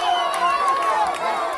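Crowds in Gaza celebrating a ceasefire announcement, a dense mass of voices shouting and cheering loudly at close range, with the sound of people running mixed in.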